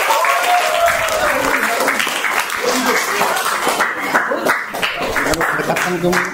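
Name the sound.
applause for three participants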